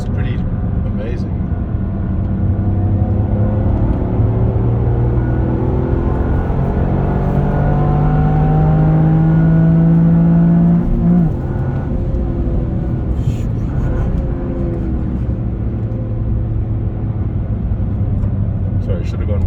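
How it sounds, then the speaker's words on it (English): A Toyota GR Yaris engine roars and drones on a race track under ongoing conversation, with a rising induction and exhaust note building then easing off mid-clip. "That induction shout of the Yeah. exhaust is pretty amazing."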